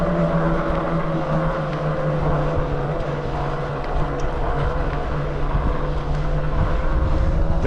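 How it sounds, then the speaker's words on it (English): Quietkat Apex Pro hunting e-bike climbing a steep hill, its electric motor giving a steady close whine over a continuous low rumble and wind noise, with no speech. "I'll let you listen to the motor."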